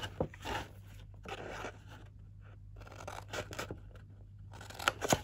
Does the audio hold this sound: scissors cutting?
yes